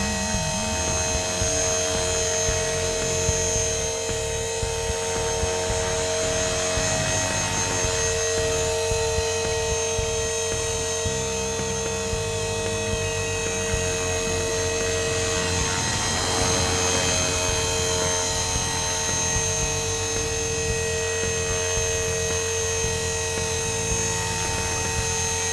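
A Blade 450 RC helicopter flies in a yard, its rotor and motor giving a continuous high, buzzing whine with steady harmonic tones that shift slightly in pitch as it maneuvers close by.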